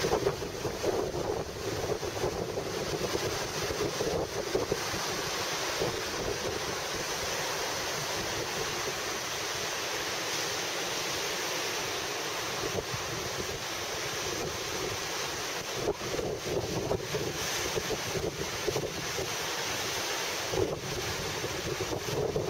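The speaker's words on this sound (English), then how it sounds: "wind gusts." Strong gusting wind buffets the microphone at Searsport Harbor in Maine during Tropical Storm Irene, a steady loud roar with surging rushes, mixed with the wash of water around the harbor.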